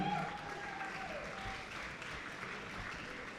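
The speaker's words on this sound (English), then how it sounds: "Another round of applause, ladies and gentlemen" Applause from the audience at a kickboxing fight event rolls on steadily, fairly faint and distant, a continuous wash of clapping with no clear speech on top.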